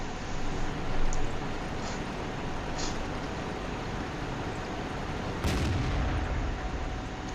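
ARL V39 tank firing in World of Tanks from a sand dune, heard as dull booms buried in a constant loud rumble of engine and battle noise, with one sharper report near the end.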